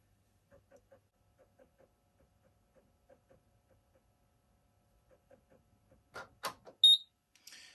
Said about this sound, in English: the machine will beep and the ready light will come back on